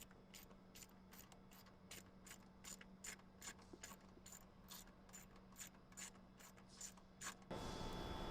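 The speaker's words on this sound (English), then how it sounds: "we're just going to remove one more bolt" Ratchet wrench rapidly clicking as it loosens a bolt on the air intake of a 2012–2018 Jeep Wrangler JK 3.6L, a quiet, steady run of close mechanical ticks ending in a brief rustle.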